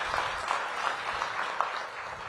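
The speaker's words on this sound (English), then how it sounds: "Give Dr. Frederick a big round of applause." Audience applause for a departing Howard University president at a mayoral appointments announcement, a dense steady wash of clapping from a crowd with no voices over it.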